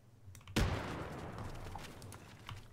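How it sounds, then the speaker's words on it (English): A classic Mills hand grenade goes off in the IFA3 military video game: one sudden blast followed by a long rumbling decay, heard alone at moderate level. "And finally the mills, classic hand grenade"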